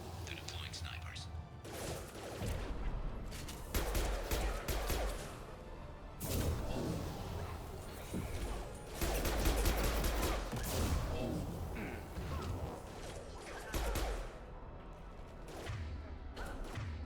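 Mass Effect 2 firefight gunfire with snipers deployed: repeated sharp shots and rattling bursts crowd together in waves, mixed with whooshing game effects and occasional talk underneath.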